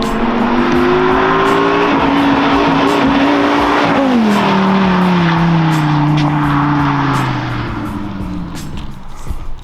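A Dodge Viper GTS supercar with a 650-horsepower engine roars loudly and steadily as it arrives close by, its pitch dipping and shifting midway before the sound eases slightly toward the end, with no talking.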